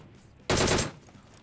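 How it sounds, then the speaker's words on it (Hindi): A single short burst of rapid gunfire from another player in a battle-royale shooter game, loud and abrupt for about a third of a second before fading into quiet background. "ओह कोई गोली चला रहा है"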